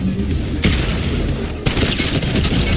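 Dense, continuous gunfire from a sniper battle in a competitive ranked shooter video game, with sharp loud reports around one and two-thirds of a second over a steady wash of game noise.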